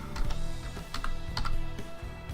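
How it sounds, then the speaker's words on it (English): Quick bursts of keystrokes on a computer keyboard as a search term is typed into a browser, close and fairly quiet clicking in a short, uneven run. "So what we're going to do in this one to find the Webcam Toy is we'll simply type in Webcam Toy."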